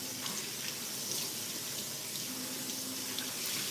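Tap water runs in a kitchen sink to rinse out a dish that has burnt-on sweet potato stuck to it. The stream splashes steadily and close by, with faint clinks and no talking.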